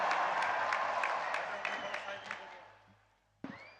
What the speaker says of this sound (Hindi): आइए तालियों के साथ इस भव्य प्रस्तुति का स्वागत करें